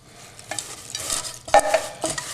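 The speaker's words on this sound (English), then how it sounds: "we start mixing them in, and they will break, don't worry about it, because you want to get them all covered in the mixture along with the nuts" Chinese chow mein noodles from a can and a mix of cashews and peanuts are stirred together into a coating mixture in a bowl, giving soft scraping and crunchy rustling bursts at close range with no talking.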